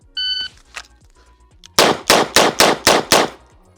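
Smith & Wesson 586 L-Comp revolver firing .38 rounds at a range: six sharp, evenly spaced shots in quick succession, loud and close, after a few faint beeps and clicks.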